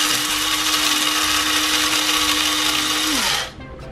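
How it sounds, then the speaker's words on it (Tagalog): A coffee grinder pulverizes whole black peppercorns with a loud, steady whirring roar that holds for about three seconds before the motor winds down and stops near the end. "So, ginamit ko yung coffee grinder."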